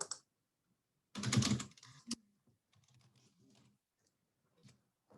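Keys clatter on a computer keyboard up close: a quick dense burst of typing, then a few scattered, softer keystrokes in an otherwise quiet room.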